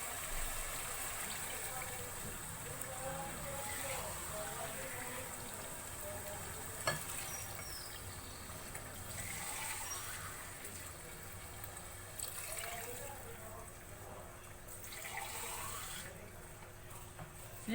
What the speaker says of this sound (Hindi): और साथ ही हम शामिल कर देंगे अब पानी।